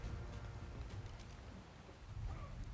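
Rain falls steadily in the desert of the survival game ARK Lost Island, a soft continuous patter with a low rumble underneath, faint and unbroken.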